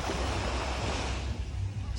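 Sea waves wash onto the fine white sand of Chaweng beach on Koh Samui in a steady, broad roar of surf that carries on without a break, with a little wind noise on the microphone.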